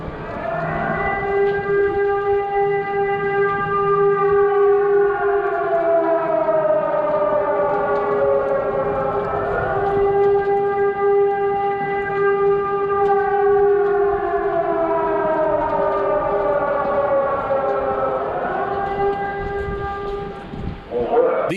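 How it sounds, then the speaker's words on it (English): A loud air raid siren in Lviv, Ukraine wails in long, slow rising and falling cycles, droning steadily for the whole stretch. "Until the sirens, of course."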